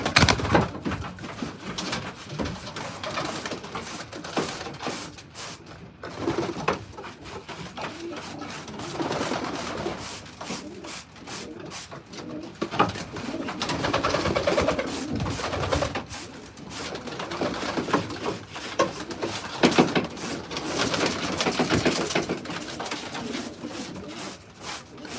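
Pigeons coo steadily inside a pigeon loft, a dense, continuous chorus of soft, throaty calls alongside scattered rustling and clicking from the birds moving about.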